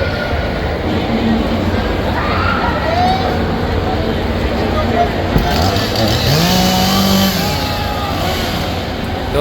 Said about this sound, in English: chainsaws are definitely real.